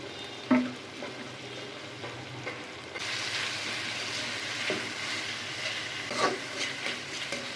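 Vegetables sizzling in a pan with salt, chopped green chillies, cumin powder and a little soy sauce, a steady frying hiss that grows louder partway through, with occasional utensil scrapes and clinks over it.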